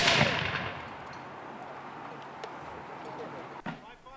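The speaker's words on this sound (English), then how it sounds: "prepare to fire by file. Commence firing" Civil War reenactors fire muskets by file, opening with a sharp nearby report that decays into a long rolling echo, then a fainter distant shot, with voices heard around the firing.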